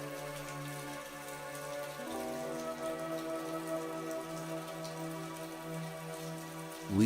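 Steady city rain patters evenly and softly throughout, a continuous hiss with a low tonal drone humming beneath it and no voices.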